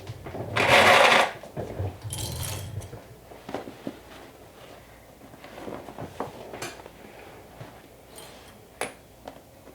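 A sewing machine stitches a half-inch seam around a pinned fabric piece for a bag, running in two short, fairly loud bursts and then falling to soft scattered clicks and handling noises, with no one speaking.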